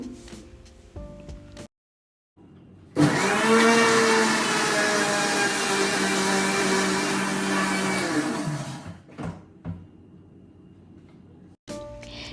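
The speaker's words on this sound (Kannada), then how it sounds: "ಹಣ್ಣನ್ನು ಸಣ್ಣದಾಗಿ ಹೆಚ್ಕೊಂಡು ಒಂದು ಮಿಕ್ಸರ್ ಜಾರ್ನಲ್ಲಿ ಹಾಕಿ ನುಣ್ಣಗೆ ರುಬ್ಕೊಳ್ತಿದ್ದೀನಿ" Chopped guava being ground in a mixer grinder jar with no water added: a loud, steady motor whir runs for about six seconds after a short pause, then cuts off abruptly, leaving quiet room tone.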